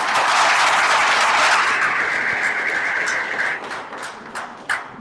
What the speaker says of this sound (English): Let's give Netumbo a round of applause.